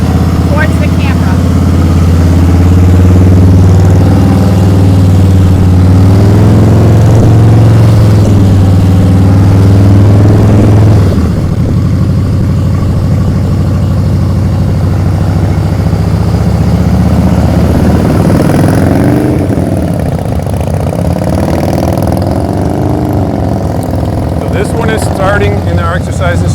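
A motorcycle engine idles in first gear as the throttle is eased into the friction zone during a slow-speed riding drill, a steady loud drone that shifts pitch partway through and stays close throughout.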